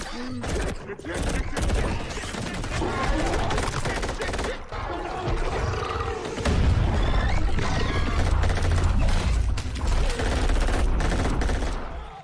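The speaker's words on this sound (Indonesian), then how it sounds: "Lalu mereka pun mulai menembaki monster itu." Soldiers fire at a monster in an alien creature movie, with dense, loud volleys of gunshots and bursts of automatic fire crackling over deep rumbles and crashes, growing heavier and more sustained in the second half.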